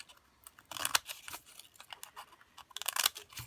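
Scissors snipping through a paper cupcake liner up close, a few quick crisp cuts and crinkles in two short bursts separated by a quieter pause.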